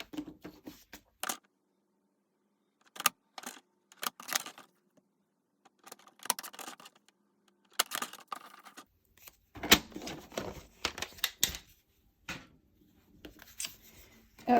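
Paper pieces for a handmade card are cut in a few short, sharp bursts of snipping and paper handling, separated by quiet pauses, close and fairly soft.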